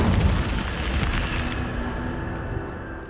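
Incendio fire spell cast in the video game Hogwarts Legacy: a loud, close whooshing burst of flame with a deep rumble that fades steadily over a few seconds, with no speech.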